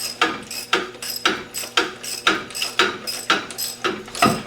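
Rhythmic ratcheting clicks in repeated strokes, about two per second, as a bolt is removed from a Mercedes 300D crankshaft pulley, close and clear without talking.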